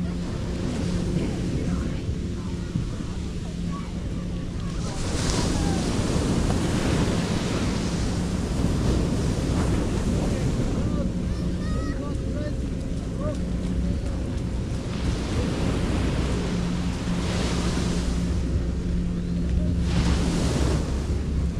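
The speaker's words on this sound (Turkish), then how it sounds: "O karşı tarafta çok güzel dalgalar var, sörf dalgaları." Ocean surf breaks on a beach at Puerto Escondido, Mexico, as a steady roar with swells that rise and fall, heavy wind buffeting on the microphone, and faint voices now and then.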